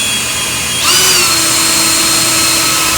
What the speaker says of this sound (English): we're gonna do a small pilot hole with an 1/8" drill bit.